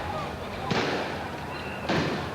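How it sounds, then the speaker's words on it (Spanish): Two sharp rubber-bullet gunshot bangs, over a second apart, ring out over a noisy crowd background during a street protest with mounted police. "Hay disparos de bala de goma."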